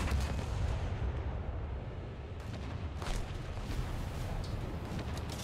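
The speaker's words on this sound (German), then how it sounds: "Jedes Kanönchen, was irgendwie verbaut ist, schießt." Cruiser guns on warships such as the USS Helena fire in War Thunder naval combat: dense, continuous booming and rumbling blasts, heavy and close, with overlapping shots and no clear gaps.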